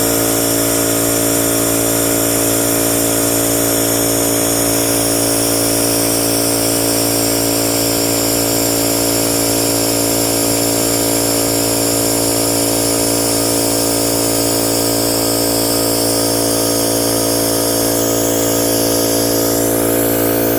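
An air compressor runs steadily, filling the tank of a ZOOYL oil extractor, a loud continuous motor drone with strong harmonic hum and hiss that holds unchanged throughout, no talking.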